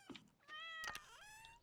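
A house cat gives a clear, drawn-out meow with a rising and falling pitch, heard close and quiet, preceded by a brief soft thump.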